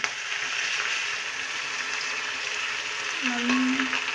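Beaten egg poured over almost-cooked tomato in a hot pan fries with a steady, close sizzle that runs throughout, with a brief low stir or scrape near the end.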